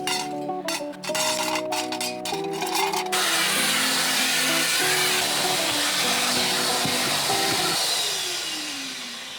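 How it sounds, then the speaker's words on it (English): A few clattering knocks give way to a vacuum cleaner's steady, loud whooshing roar inside a 2020 VW Tiguan's interior, which slowly fades toward the end. "Let's give the interior a bit of a vacuum, get all this gunk out of here"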